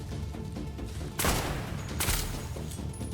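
Asphalt rifle, an AKM-style gun in the Roblox game Decaying Winter, fires in two sharp loud bursts over a continuous game background.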